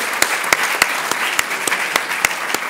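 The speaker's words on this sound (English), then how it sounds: "Give yourselves a round of applause for putting this together." Audience applause at an education and advocacy summit, a steady wash of clapping from a crowd with sharper individual claps popping out at regular intervals, continuous throughout and without talk.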